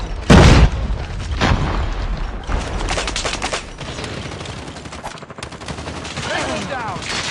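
Gunfire in a mobile shooter video game: a loud booming shot opens, followed by scattered bursts of rapid fire and impacts, with in-game voices shouting over the action.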